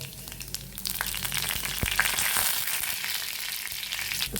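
Mustard and fenugreek seeds fry in hot oil, a bright continuous crackling sizzle with scattered sharp pops, close and alone.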